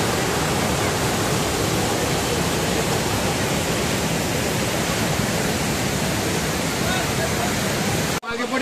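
Water thunders down a hidden waterfall in a steady, loud, dense roar that stays unbroken until a sudden cut near the end.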